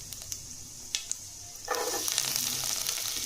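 Fennel seeds and cinnamon sizzle in hot oil while tempering for a tomato kuzhambu, a few sharp crackles first, then a loud steady hiss that swells and continues close up.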